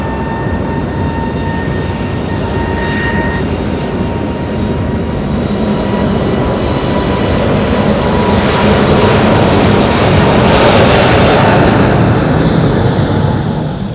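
An Edelweiss airliner roars down runway 05 at Madeira Airport on takeoff, a loud sustained broadband engine rumble with a whining tone that swells as it passes, buffeted by strong wind.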